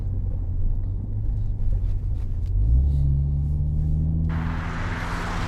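A 306bhp MINI Clubman JCW accelerating in sport mode gives a steady low engine rumble that rises in pitch partway through, then a hissy rush of road and wind noise joins near the end.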